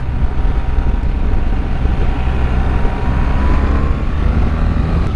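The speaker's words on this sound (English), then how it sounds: "it goes, it revs nicely" A BMW R1300GS motorcycle engine runs loud and close with a steady low rumble, its pitch rising slightly as it revs, mixed with heavy wind buffeting across the microphone while riding.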